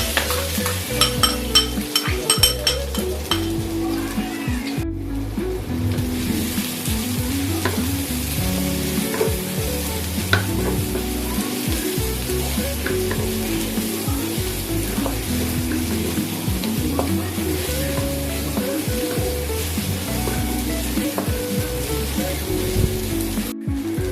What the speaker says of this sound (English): stir fry the garlic, shallot and anchovies